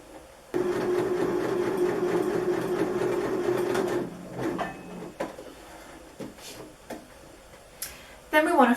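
A sewing machine running a running stitch across a doll-dress waistband: a steady close whir for about four seconds, then stops, followed by small handling clicks and knocks.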